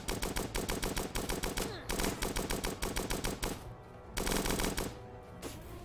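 Rapid bursts of heavy video-game cannon fire hammer away loudly in dense volleys, broken by brief pauses and a short gap before another salvo.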